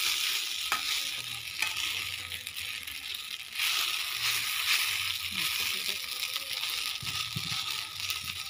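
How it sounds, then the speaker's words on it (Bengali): Chow mein fries in a pan while a spatula stirs it, a steady close sizzle broken by scraping and tossing strokes, with faint background voices. "মাসি চাউমিন বানাচ্ছিল, আমি এসে খুন্তি নাড়ছি"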